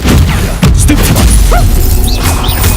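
Stupefy spell cast in the Hogwarts Legacy video game, a loud booming crash of a blast landing amid dense, saturated battle effects with whooshes and impacts throughout.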